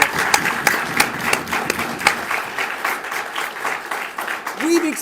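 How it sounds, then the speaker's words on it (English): A debate audience applauds the competing teams, a dense, steady wash of many hands clapping continuously, with a brief voice near the end. "I think all four of these teams are due another round of applause for their effort."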